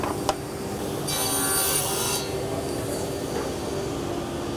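A short burst of harsh, hissing saw cutting through a hard glass fibre plate lasts about a second, with a faint tap before and quiet hum after.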